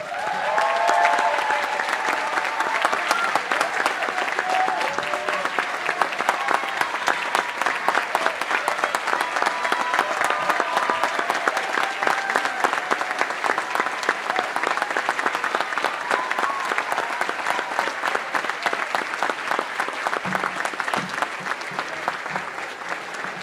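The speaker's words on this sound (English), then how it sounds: "let us give a sound round of applause" An audience at a school prize day applauds in a sustained, full round of clapping that stays loud and even throughout, with no talk over it.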